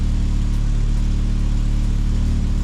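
Exhaust drone from a VW Mk2 Jetta engine running with a newly fitted exhaust that still has a leak, a steady, loud, low rumble that holds constant throughout with no talking.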